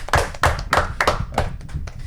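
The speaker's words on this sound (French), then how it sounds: "on peut tous s'applaudir" A group applauds together in a studio talk show, several loud bursts of clapping rising and falling over about two seconds, close and dense without speech.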